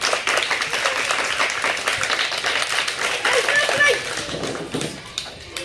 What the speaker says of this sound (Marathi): आपण त्यांच्यासाठी जोरदार टाळ्या दिल्या.